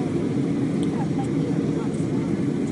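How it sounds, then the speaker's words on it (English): Steady, loud airliner cabin drone as the jet descends on approach to Kelowna with the landing gear being lowered, a continuous broadband roar throughout with no distinct clunk standing out. "And gear down."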